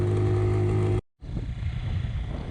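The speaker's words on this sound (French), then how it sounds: "Et là, la moto, elle commence vraiment à galérer en troisième." Motorcycle engine straining in third gear on a long high-altitude climb between desert and snowy volcano toward the Bolivian border, a steady labored drone cut by a brief dropout, then a rougher, lower engine note.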